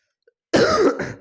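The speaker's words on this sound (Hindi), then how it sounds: "खांसी आ रही है मेरे को अभी भी," One short, harsh cough or throat clear sounds close by after a brief silence, then trails off quickly.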